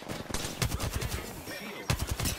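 Rapid gunfire from an attacking squad in the Apex Legends video game rattles in dense, continuous bursts with a sharp volley near the end, loud and close throughout.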